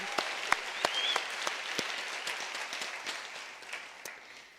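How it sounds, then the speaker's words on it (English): Audience applause at a University of South Africa graduation ceremony, a soft, distant spread of many hands clapping in a large hall, with a few sharp nearby claps standing out before it gradually thins. "Give them a round of applause, ladies and gentlemen."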